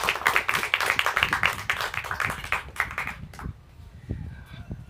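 Audience applause at a student storytelling showcase, a brief burst of scattered clapping for about three seconds that fades out into quiet room noise.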